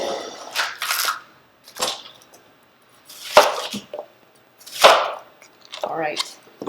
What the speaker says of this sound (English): I'm just quartering the carrot